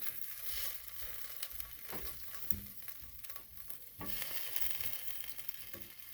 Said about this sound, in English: You just want to move these around. Try to flip them over as best as can be.